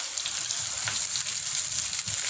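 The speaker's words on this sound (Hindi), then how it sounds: "जब घी मेल्ट हो जाए इसमें लहसुन के जवे डाल देंगे। इसको 1 मिनट भूनने के बाद प्याज ऐड कर देंगे।" Garlic cloves fry in melted ghee, giving a continuous, close, bright sizzle with small crackles throughout and no talking over it.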